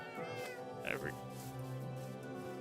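A cat in Minecraft Bedrock Edition gives a short meow near the middle, with a second brief mew straight after, over a steady tonal game background.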